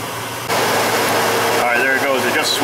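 A Chevrolet/GMC engine with a rough-running, lean misfire condition idling, a steady mechanical drone that rises after a moment, with someone talking over it.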